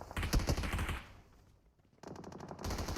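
Rapid automatic gunfire from a firefight in a battle royale video game, loud bursts at the start, a brief lull, then renewed rattling volleys near the end, with no talking.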